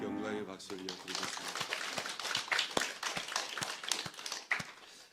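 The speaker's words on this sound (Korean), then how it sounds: "우리 하나님께 영광의 박수 올려드리겠습니다." Church congregation clapping during a Sunday worship service, sharp claps quickly building into a fairly quick, rhythmic beat after a short tail of a sung or spoken phrase at the start.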